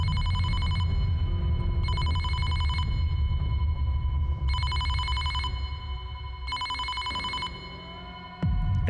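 A telephone rings in repeated electronic bell bursts, four rings of about a second each separated by pauses, over a low rumbling drone, fairly loud and with no talking.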